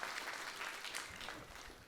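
Hands clap in welcome for a minister's aide at a Rajasthan senior teachers' association event, a brief, fairly faint patter of crowd applause with a few sharper claps near the end.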